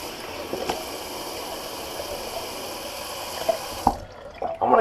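Water runs steadily from a bathroom sink tap while a face is rinsed after a shave. It is a constant close splashing rush, with a few small knocks and splashes near the end. No one speaks.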